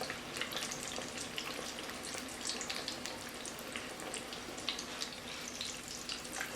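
Corn deep frying in grease in a big pot, a pressure cooker pot: a dense, continuous crackling bubble of hot oil, steady and fairly quiet, heard up close with no voices.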